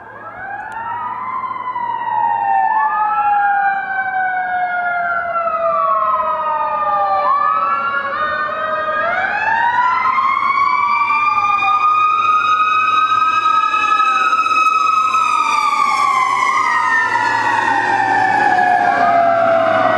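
A fire truck siren wails loudly and continuously, its rising and falling tones overlapping as it passes close by, with a low engine drone underneath.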